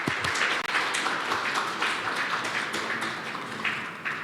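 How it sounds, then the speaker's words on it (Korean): Audience applause for a presenter at a Korean community healthcare network seminar, a full steady round of clapping throughout, fairly close and continuous with no one speaking over it. "그러면 발표해주신 우리 선생님께 큰 박수 부탁드립니다"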